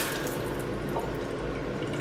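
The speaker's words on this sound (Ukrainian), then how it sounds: "Треба зараз спустити водичку, щоб пішов пар" Water runs steadily from a bathroom tap in a continuous close hiss with no voices.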